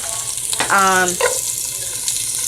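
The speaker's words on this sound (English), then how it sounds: "So what I'm gonna do here is add my onions first." Onions hit a hot skillet of meat grease on a high stove, a loud close sizzle with a brief tonal squeal as they land, settling into steady frying.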